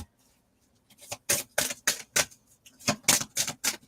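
Tarot cards being shuffled by hand: a quiet start, then a quick series of crisp riffling, flapping bursts about three to four per second, close and fairly loud, with no voices.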